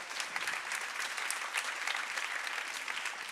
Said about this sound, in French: Et vous pouvez l'applaudir très fort.